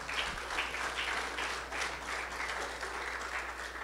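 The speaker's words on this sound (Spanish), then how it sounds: "Démosle un fuerte aplauso al Señor" Church congregation applauding during a Christmas nativity service, a steady wash of many hands clapping at moderate distance, continuous throughout without pause.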